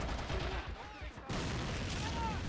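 A 20mm cannon fires amid a battle in Men of War: Assault Squad 2, producing a dense, continuous roar of overlapping gunfire and booming impacts that barely lets up for the whole stretch.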